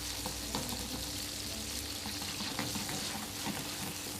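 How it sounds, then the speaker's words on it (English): A mussel base sauce with parsley simmers in a pan, giving a steady, close sizzling and bubbling hiss with scattered soft pops and faint stirring scrapes throughout. "we're going to let it simmer for about 10 minutes"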